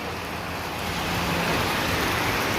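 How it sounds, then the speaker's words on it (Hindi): Very heavy rain pouring down at a roadside dhaba on a mountain route in Uttarakhand, a steady, dense hiss that holds at the same level for the whole clip with no speech over it. "बहुत तेज़ बारिश है।"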